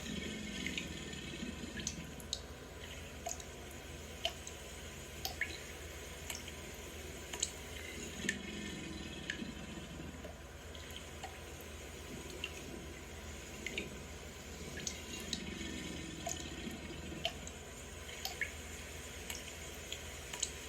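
Water droplets bouncing off the backs of alligators during their water dance, a faint, scattered patter of small drips and splashes over a low, steady background.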